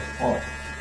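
An electric hair clipper trimming a mohawk hairstyle, its steady buzz swelling briefly as the blades pass through hair, all within under a second.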